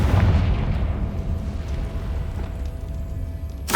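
A Confringo blasting spell explodes in Hogwarts Legacy on PS5. A loud, booming blast opens the clip and its dense rumble fades slowly over several seconds, then a short sharp burst lands at the very end.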